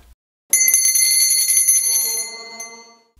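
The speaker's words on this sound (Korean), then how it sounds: "12월 25일 성탄절을 알리는 종소리와 함께 미사가 시작됩니다" Church bells at Seoul's Myeongdong Cathedral ring out for Christmas Mass in a single bright, sustained peal of overlapping metallic tones that fades slowly as the strikes decay.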